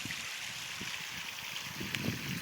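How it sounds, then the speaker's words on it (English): Water trickles and splashes steadily from a hose or can onto garden soil during morning watering of vegetable rows, a soft continuous hiss with faint spattering, fairly quiet and alone. "Morning watering time."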